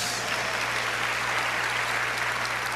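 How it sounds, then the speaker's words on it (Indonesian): A church congregation at Graha Bethany in Surabaya claps together, a dense, even wash of hand clapping held steady across the whole stretch, with a low hum beneath and no talking. "Saudara tepuk tangan karena apa?"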